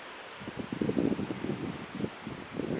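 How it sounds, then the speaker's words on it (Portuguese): Strong autumn wind sweeps through garden foliage in Osnabrück, a steady broadband rush of rustling leaves that swells and eases in gusts with no talking. "Ventania, ventania."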